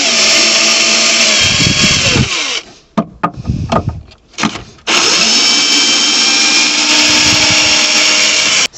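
A power screwdriver drives screws to fix a bed to the floor of a van, whirring loudly in a long close burst, then several short stop-start pulses, then another sustained run.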